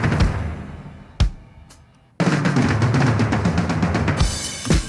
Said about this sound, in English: I have some recordings of toms that were played, I think in probably in like a big hall